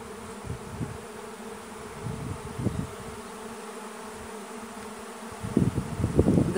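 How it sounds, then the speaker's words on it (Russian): A honeybee swarm leaving the hive flies around a trap cap, a steady close insect hum that swells louder near the end, with faint rustling and no talk. "Вся основная пчел туда вьется."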